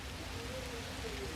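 Steady rainstorm in the video game The Universim, a dense even hiss of rainfall on the surface with a low rumble underneath, continuous and moderately loud throughout.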